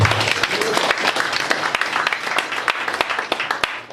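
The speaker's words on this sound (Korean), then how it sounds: "우리 저 박수 좀 한번 쳐주십시오." A crowd applauds steadily at a Korean family clan gathering, with dense, overlapping clapping that carries on for the whole stretch without a break.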